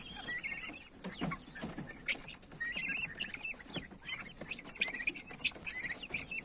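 Chickens kept with a laying hen in a four-metre cage cluck and squawk nearby in overlapping calls, with scratchy rustling underneath.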